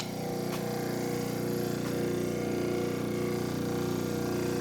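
A Marathon Black Max inverter motor with a Sterns brake and Ironman gearbox runs steadily, a continuous even hum and whir at close range, alone without talk.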